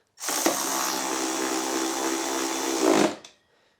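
A power tool or driver runs steadily for about three seconds while tightening small bolts on an infrared plug-in heater, with a loud, continuous whirring hum that rises slightly in pitch just before stopping.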